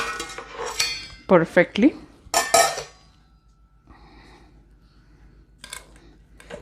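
Pots and metal utensils clatter and clink in a home kitchen as an Instant Pot lid is opened and cooked rice and dal are taken out, with a few loud knocks early on, then quieter scraping while a voice speaks briefly.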